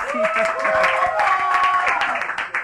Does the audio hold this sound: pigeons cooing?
no